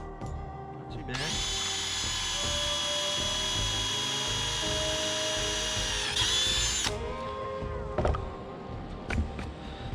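A power drill bores drain holes into a coconut, whining at a loud, steady pitch for about six seconds before spinning down, followed by a few knocks and handling noises.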